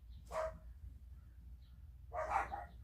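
Dogs barking in the background at a home crafting session, two separate bursts roughly two seconds apart, moderately distant over a low steady hum.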